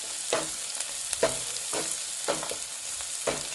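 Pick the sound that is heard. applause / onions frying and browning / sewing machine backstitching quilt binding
onions frying and browning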